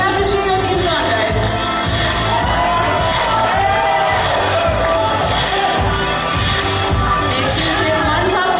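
A crowd at an entrepreneurs' event cheers on competing teams during a cup-assembly race, with continuous loud shouting, whoops and yells filling the space without pause.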